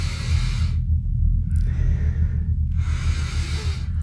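A voice imitates a knight sniffing at an uncorked bottle: two long breathy inhaled sniffs, up close, separated by a brief pause and ending in a short third sniff.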